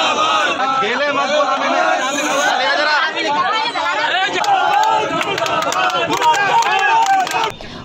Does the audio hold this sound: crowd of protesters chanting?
yes